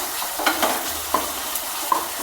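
Steady sizzling of tomato sautéing in a hot pan for Karnataka-style kara bath, with a few scraping stirs of a spoon breaking through.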